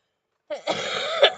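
A close, short bout of coughing, a few harsh bursts running together after a moment of silence.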